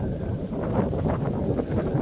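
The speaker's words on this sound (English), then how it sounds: "Wow, that's windy." Steady, heavy wind buffeting the microphone as someone walks into the wind outdoors, a continuous low rumble with gusty fluctuations and no voices.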